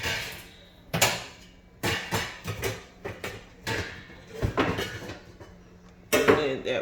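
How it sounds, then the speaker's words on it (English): Metal cooking pans clank and scrape while one is swapped for a deeper pan, irregular close knocks and rattles of cookware on a kitchen counter, with no talking. "So let me get another pan here. So I'm going to get a deeper pan."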